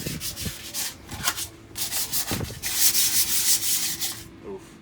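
Sandpaper scuffing down a greasy car engine bay before painting, close, loud gritty back-and-forth strokes in uneven bursts, some harsher and hissier than others, with no talking.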